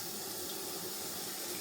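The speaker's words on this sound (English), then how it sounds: "I'm just going to change that water because I did put some stuff in the sink." Tap water runs into a kitchen sink as it is refilled, a steady, full hiss of flowing water with no breaks across the short stretch.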